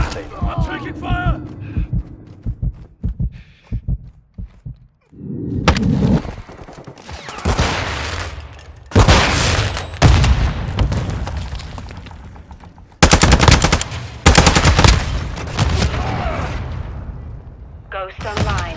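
Call of Duty: Modern Warfare 2 firefight with dense bursts of automatic gunfire and booming impacts, loud and repeated in clustered volleys after a quieter opening, with radio-style voices talking over the shooting.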